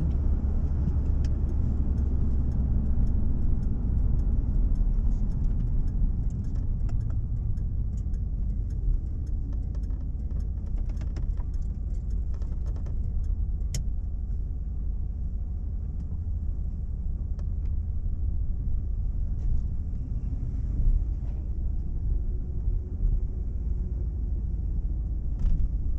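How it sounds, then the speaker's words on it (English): A 1977 Dodge Royal Monaco engine running at a steady idle, a continuous low rumble close by with no talking and only slight variation in pitch. "Car starts right up, cold or hot."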